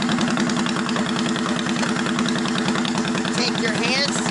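A carbureted motorcycle engine idles right after starting, a loud, close, steady low putter with an even throbbing pulse that carries on unbroken throughout.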